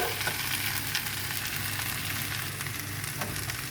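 Steady, close sizzling of egg, potato and carrot frying in a pan for bhuna khichuri, a continuous crackling hiss with no voices.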